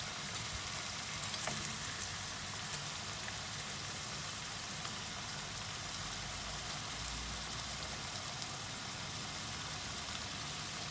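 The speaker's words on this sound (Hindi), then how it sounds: "2 से 3 मिनट तक इनको आपस में फ्राई करेंगे मसाले" Dum kababs frying with spices in a pan, a soft, steady sizzle and hiss at low volume, continuous and even with no voices.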